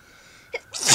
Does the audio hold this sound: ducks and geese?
no